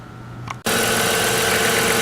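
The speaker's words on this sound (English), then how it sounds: "so we've started the engine" A 1998 Chrysler Town & Country's 3.8-liter engine catches after a brief quiet moment and settles into a steady, loud, even idle that holds to the end, with the fuel injector recently replaced.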